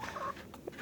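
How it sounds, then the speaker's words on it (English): Chickens cluck in a short, soft burst of a few throaty notes, close but fairly quiet, with no talk over them. "Chickens are so happy"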